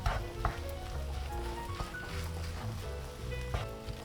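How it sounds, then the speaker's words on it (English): Kimchi fried rice with gochujang paste sizzles steadily in a hot pan as it is stir-fried. Occasional scrapes and stirring knocks rise over the continuous frying hiss. "we're going to mix the paste with the rice"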